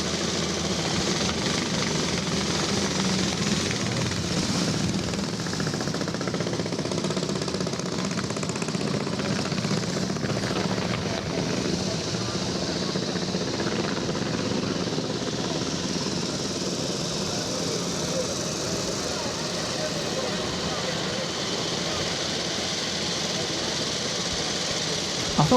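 A vintage Triumph Ricardo motorcycle engine runs at a vintage club run, a steady, rough mechanical chug under crowd noise at moderate distance, with faint voices in the background.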